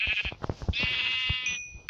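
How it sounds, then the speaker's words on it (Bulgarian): Sheep bleating in the video game Minecraft, a single drawn-out bleat that wavers, close and clear, with faint clicks before it and no talk. "още една овца"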